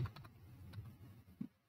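Typing a message on a computer keyboard gives a few faint, scattered key clicks, close by and quiet, with no talk.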